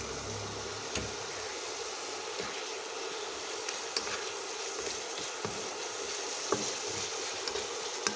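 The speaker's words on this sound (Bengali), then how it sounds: "এবার মশলাটাকে কষিয়ে নিব। মাছগুলো দিয়ে দিচ্ছি।" Giant freshwater prawns (golda chingri) frying in spice masala with cumin and coriander powder while being stirred, giving a steady close sizzle with occasional scraping clicks and no talk.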